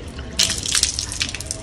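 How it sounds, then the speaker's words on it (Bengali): Tap water runs and splashes over hands being washed, uneven gushing and dripping bursts close by with a low background hum. "আবার একটু হাতটা ধুয়ে নাও"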